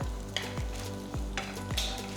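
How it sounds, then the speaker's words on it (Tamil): Steady sizzling of large-cut onions frying in ghee in a pan, with a few soft scraping stirs at regular intervals; close and continuous. "பேனில் 1 டீஸ்பூன் நெய் ஊற்றி பெரிய துண்டுகளாக நறுக்கின வெங்காயம் போட்டு கிண்டுங்க"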